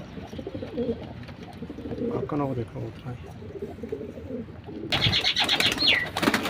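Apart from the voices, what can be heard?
pigeons cooing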